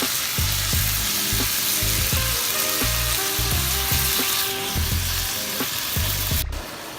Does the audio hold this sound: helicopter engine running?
no